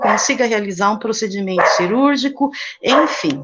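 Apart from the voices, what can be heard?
dogs barking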